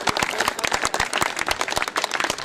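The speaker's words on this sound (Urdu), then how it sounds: "تالیاں جی تالیاں." Dense, steady applause from a poetry gathering audience greeting a poet, many hands clapping at once in a continuous close wash with no voices over it.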